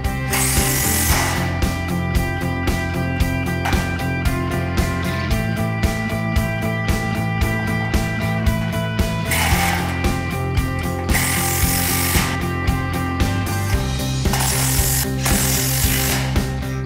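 A power tool drives fasteners through the middle holes of steel truss webs into the top chord in repeated short bursts with brief pauses between them. The ratcheting, mechanical whirring is close and loud.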